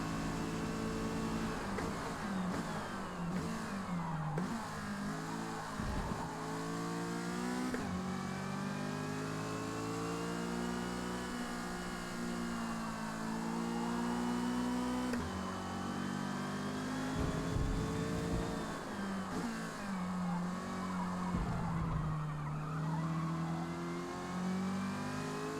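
Mazda MX5 Cup race car in Forza Motorsport, engine rising and falling through gear changes over a full lap, with revving climbs, downshift blips and faint tire noise, close and continuous.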